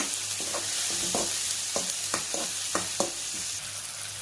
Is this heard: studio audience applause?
no